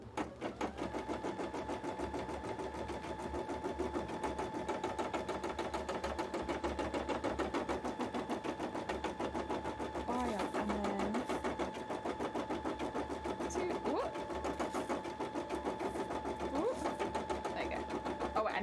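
A sewing machine running continuously in a cosplay workspace, a steady rapid mechanical chatter throughout, with faint background noises.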